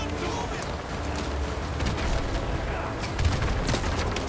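Gunfire crackles all around in Call of Duty Modern Warfare 2 Remastered during a battle scene, with dense overlapping shots and distant booms running continuously while a voice talks over them.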